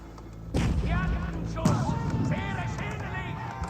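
Hand cannons and bombard cannons firing in the strategy game Age of Empires 4, a loud boom near the start and another burst midway, with a commentator talking continuously over the battle noise.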